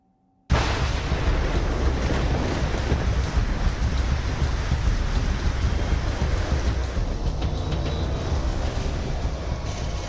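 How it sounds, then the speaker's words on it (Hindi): Steady heavy rain on a cold winter morning in Delhi, loud and continuous from start to end, with a deep rumble of thunder mixed in and no voices. "एक तो कड़ाके की सर्दी, ऊपर से गरजते और बरसते बादल।"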